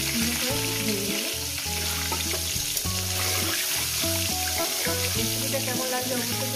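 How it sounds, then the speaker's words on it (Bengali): An egg fries in a pan with an even, continuous sizzle, partly masked by louder rhythmic background music throughout. "ডিমটা এইভাবে ভেজে নেব"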